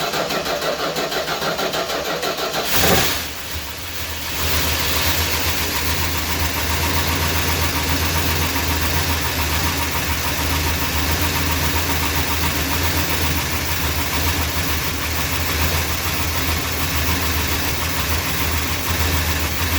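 A Mopar V8 cranks briefly and fires after its noisy lifters were taken out and cleaned, then settles into a loud, steady idle with a faint ticking running through the close engine rumble.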